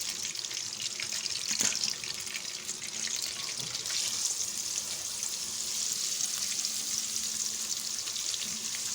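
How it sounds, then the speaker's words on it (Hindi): Chopped ginger, garlic and green chili sizzling and frying in hot oil for chicken biryani, a continuous crackling hiss with occasional sharper pops and stirring scrapes throughout. "अब हम अदरक, लहसुन और हरी मिर्च का पेस्ट इसके अंदर ऐड कर देंगे।"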